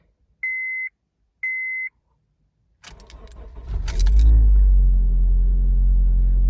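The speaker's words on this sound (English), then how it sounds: "So I just started the car with no problem with the jump starter hooked up to the battery." Two electronic beeps, then a 2006-2011 Honda Civic cranks and fires with a jump starter clipped to its battery, settling into a loud, steady idle up close.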